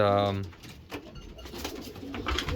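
Pigeon in a breeding loft, an unmated hen, giving a short cooing call at the start, followed by quieter bird rustling and soft calls with faint background voices.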